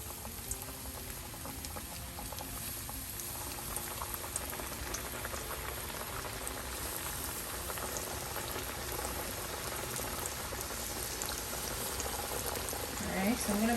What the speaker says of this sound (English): we're gonna start frying off these wings